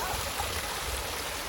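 Small waterfalls run along a partly frozen mountain path, giving a steady, close broadband rush of flowing water with no breaks across the short stretch.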